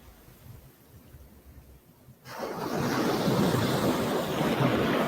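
Ocean surf on a beach in Zanzibar starts quiet and distant, then swells into a loud, continuous crash and wash of waves with some wind buffeting the microphone.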